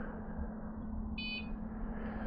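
A cheap motorcycle alarm armed by remote gives one short, faint electronic chirp over a steady low hum of background noise.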